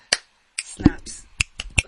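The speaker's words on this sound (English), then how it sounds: "Snaps." Several sharp finger snaps from a small group of students, used in place of clapping, come as isolated quick bursts spaced through a short stretch with a faint murmur of voices in between.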